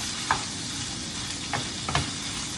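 Italian sausage fries in a pan with a loud, continuous sizzling hiss, punctuated by a few short clinks of a utensil stirring; nobody speaks.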